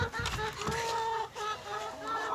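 Several chickens cluck and murmur close by in a continuous, busy chorus with no pauses.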